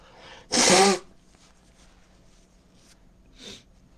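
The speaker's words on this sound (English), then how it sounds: "Excuse me, I've got to blow my nose now." One loud, sharp nasal blast, like a forceful nose blow or sneeze, followed by a quieter snort a few seconds later in an otherwise quiet room.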